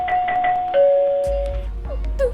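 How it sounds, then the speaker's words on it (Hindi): A doorbell rings indoors with clear, sustained chime tones repeating a few times, followed by a loud low rumble. "बजाने दे घंटी इसको।"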